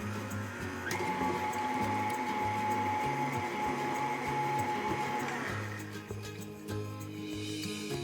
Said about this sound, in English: We're gonna go down the sides here to do one more quick mix.